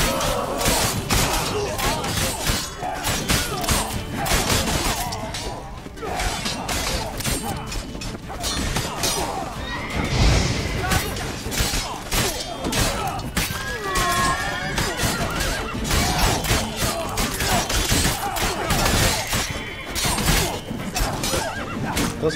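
Horses neigh and whinny repeatedly in The Witcher 3: Blood and Wine, loud and close amid clattering hooves, crashes and busy game noise, continuing throughout.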